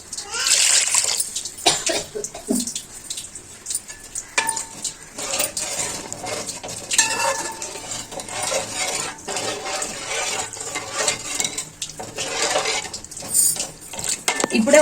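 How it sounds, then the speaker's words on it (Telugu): Water is poured into a pot of Andhra-style fish curry (chepala pulusu), with close splashing under repeated clinks and clatters of utensils against the cookware, continuing throughout. "మనకి ఎంత గ్రేవీ అయితే అవసరమో అంత వాటర్ పోసుకోవాలండి"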